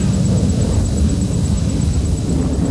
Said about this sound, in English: Sukhoi 30 MKI is the only operational aircraft in the world today that can do this extremely complex maneuver